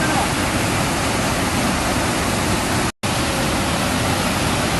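Heavy rain pours down with floodwater rushing at a mountain tourist spot, Gunung Pandan, a dense, loud, unbroken roar that cuts out for an instant midway.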